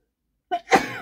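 One short, close sneeze from a woman with a cold, a quick intake followed by an abrupt burst, after a brief silence.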